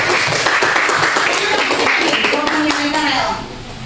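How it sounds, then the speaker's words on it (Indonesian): A classroom history lesson bursts into a short round of dense hand clapping from students, loud and close for about three seconds before fading, with voices mixed in. "beri tepuk tangan"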